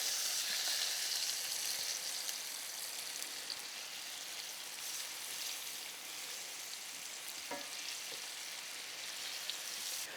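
Sweet potatoes being caramelized in a very hot pan, a steady bright sizzle running throughout and a brief clatter as the pieces are flipped.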